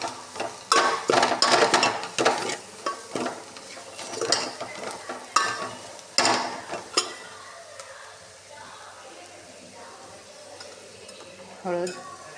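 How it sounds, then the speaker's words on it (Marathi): Curry leaves and masala being fried in a pan, with a busy burst of scraping stirs and clattering spatula strokes over a light sizzle that quiets to a low hiss, close up with no speech. "कढीपत्ता, मसाला, मसाला भाजून घेऊया।"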